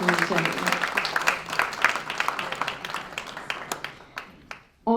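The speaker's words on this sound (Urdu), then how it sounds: "زوردار تالیاں ان دونوں آرگنائزیشنز کے لیے ہونی چاہیے" An audience at an Eid Milan mushaira poetry gathering claps together, a dense burst that thins into scattered claps and fades, then a voice begins speaking at the very end.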